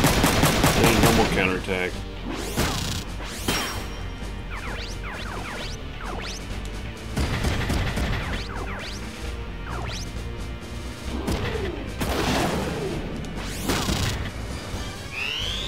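Shotgun blasts and crashing impacts ring out in the Front Mission 3 mech combat game, bursts of gunfire and metallic hits over game music, with a voice talking briefly.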